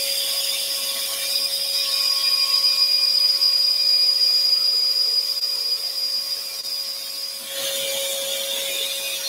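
A scroll saw trims corners from a wooden shelf bracket, giving a steady, close, high-pitched mechanical whine with a constant tonal hum that shifts briefly near the end as the cut changes.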